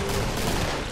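Gunfire in the game Killing Floor, a dense, loud burst of rapid overlapping shots filling a brief one-second moment without pause.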